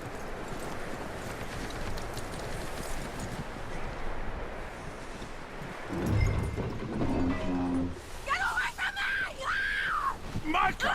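Horse hooves clip-clop at a steady pace in the Western video game Red Dead Redemption 2, under ambient game sound. Voices and animal calls join toward the end.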